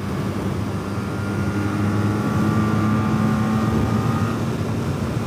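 A 1990 Honda RC30 motorcycle cruising through sweeping bends on a Southern California road, a steady loud engine drone with wind rush that holds constant throughout, with no talking.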